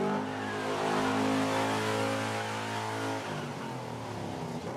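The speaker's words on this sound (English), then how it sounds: "Can we move this car over 5 feet, please?" An expensive multimillion-dollar car on a film set, its engine revving and idling at a steady mid pitch close by, then easing down toward a lower rumble, no talk.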